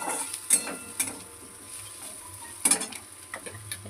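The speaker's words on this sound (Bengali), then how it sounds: "এটাকে একটু ভাজা ভাজা করে কাঁচা লঙ্কা একটু চিড়ে দিলাম" Green plantain frying in a pan with turmeric and chilli powder, a soft low sizzle under a few sharp clinks and scrapes of a spoon stirring against the pan.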